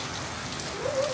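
Steady rain falls on a tin-roofed house, a soft continuous hiss throughout, with a faint short call near the end.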